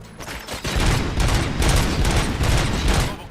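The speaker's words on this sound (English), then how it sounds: "Gunshots? What's going on?" Dense, continuous gunfire in the video game RoboCop: Rogue City rattles in rapid overlapping bursts, loud and close, with booming low thuds beneath the shots.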